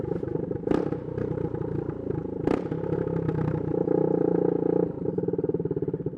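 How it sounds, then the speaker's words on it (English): A straight-piped 2022 Husqvarna Svartpilen 401 motorcycle revs loudly and close by, with sharp throttle blips and crackling bursts over a steady, rumbling idle, echoing among city buildings. "You can imitate a downshift by just revving."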